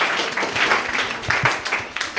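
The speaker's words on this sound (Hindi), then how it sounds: "चलिए चलिए जोरदार ताली बजाइए" An audience at a student gathering bursts into loud, dense applause, a continuous wash of many hands with sharper individual claps poking through.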